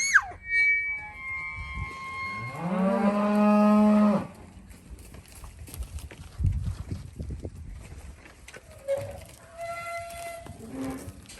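Angus breeding cows and calves on a farm where cattle are sorted before sale: one long, loud, deep moo stands out clearly, followed by quieter shuffling and fainter, shorter lowing calls in the background.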